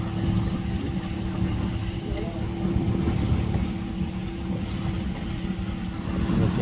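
A steady motorboat engine drones close by during a lancha ride at Amapala, Valle, Honduras, its low continuous hum joined by wind and water noise, with faint voices underneath.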